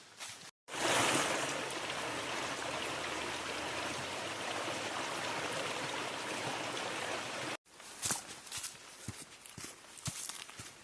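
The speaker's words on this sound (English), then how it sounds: "we have a stream that goes beside us for a good part of our hike. The Flat Creek in this case" Flat Creek rushes steadily beside a hiking trail along Balsam Mountain Road in the Smokies, a loud, continuous broadband wash. It then cuts off and gives way to scattered footsteps on the trail.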